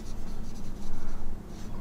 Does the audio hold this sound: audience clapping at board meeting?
no